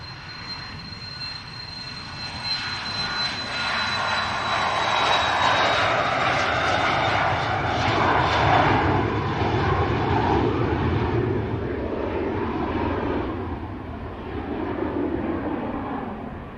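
An Embraer Phenom business jet takes off at an airport, its engine roar swelling to a loud, steady whine with a high tonal note, then slowly fading as it climbs away.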